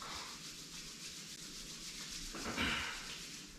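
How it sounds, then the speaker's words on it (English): Palms rubbed together, a soft continuous close-up swishing friction that grows a little louder toward the end, with no talk. "Rub your palms,"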